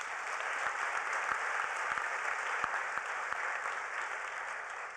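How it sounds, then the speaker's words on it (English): Distant, even applause washes through a large hall at the Hult Prize finals and awards ceremony at the United Nations, honoring the judges, with scattered nearer claps over a steady wash. "So let's give a big hand of applause to our judges."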